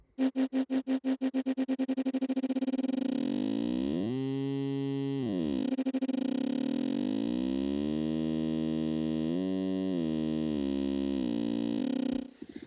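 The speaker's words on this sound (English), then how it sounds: "You just hear a tone, which gets higher pitch as you increase this knob." A buzzy granular synth tone starts as rapid clicks that blur into a continuous drone as the grain rate rises, its pitch sweeping up and down, then cuts off abruptly.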